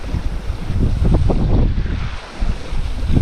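Wind and rushing water at sea aboard a sailing boat off Kodiak, Alaska, a loud close roar with swelling surges and splashy bursts, no voices.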